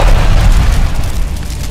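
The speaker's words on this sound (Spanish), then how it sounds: "provocando una enorme explosión." A huge explosion in a mine from League of Legends lore, a loud deep rumbling boom that sustains and slowly rolls off with no speech over it.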